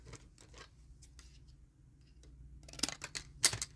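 Scissors snip close by after a stretch of soft handling noise, with two crisp cuts near the end, the second louder than the first.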